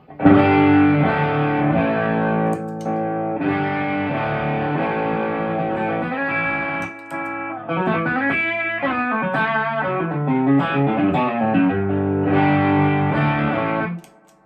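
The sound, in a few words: electric guitar through overdrive pedal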